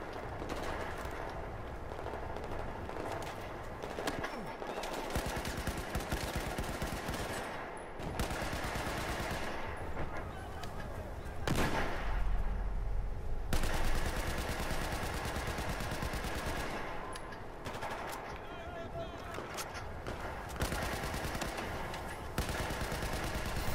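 Sustained automatic gunfire from a weapon in the video game Battlefield 4, dense rapid bursts filling the scene with loud, continuous crackle and short pauses between volleys.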